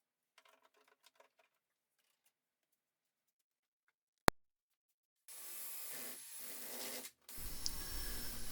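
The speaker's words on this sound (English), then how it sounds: "A quick tidy up with the drum sander on the drill" A drum sander spinning on a power drill smooths a cut edge during a plumbing job. Silence, then a sharp click, then two sustained bursts of gritty rasping separated by a brief pause.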